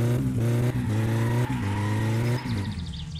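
A car engine in the game My Summer Car holds a steady, loud drone while the driver drifts. The pitch steps up and down with each throttle blip and gear change, and no one speaks.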